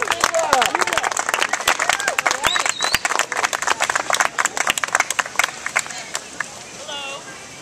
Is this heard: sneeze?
no